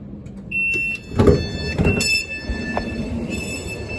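Doors on a Class 458/4 electric train closing at Weybridge station: a steady warning tone starts, then two loud thumping bursts of door movement, followed by a quieter hum with a few fainter beeps near the end.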